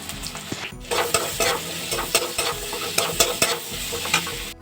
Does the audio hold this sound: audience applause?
no